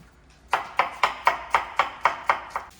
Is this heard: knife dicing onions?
yes